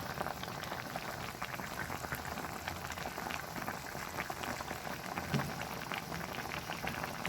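Paksiw na bisugo broth with bitter gourd (ampalaya) simmers in a pot with a steady, close bubbling hiss and scattered small pops, continuous and fairly quiet with no talk.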